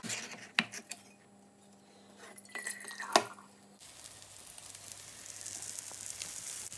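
Vegan tomato-mozzarella squares frying in a pan, a faint hiss of sizzling behind a few sharp clinks of utensils, the frying growing steadier and brighter toward the end.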